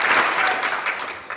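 Audience applause at a school winter sports award assembly, a brief dense burst of clapping from a crowd, fairly loud and steady.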